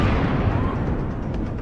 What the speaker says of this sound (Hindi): तस्वीरों में देखा जा सकता है कि किस तरह से जोरदार धमाका हुआ और फिर आग धुएं का गुबार उठा।